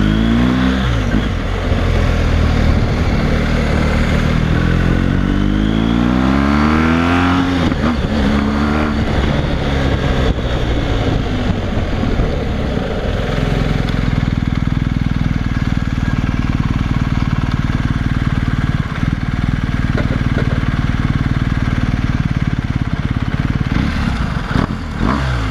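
BMW GS1250 motorcycle fitted with a new Dominator Racing GP1 exhaust, revved loudly up and down near the microphone, rising and falling surges giving way to a steady deep throaty running note.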